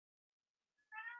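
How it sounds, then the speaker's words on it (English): A single cat meow, short and fairly clear, rising out of near silence at the end with a brief lead-in note just before it. "That's my cat."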